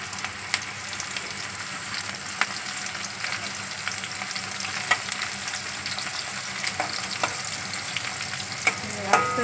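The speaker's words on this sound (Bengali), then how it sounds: "ভেন্ডি ভাজা হচ্ছে" Spiced okra (bhindi) with salt and masala frying in a pan, giving a soft continuous sizzle broken by occasional sharp clicks of stirring, with no talking.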